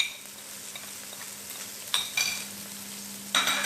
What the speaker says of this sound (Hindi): ऐड करके मैं अब इसको फ्राई कर रही हूँ मीडियम आंच पर।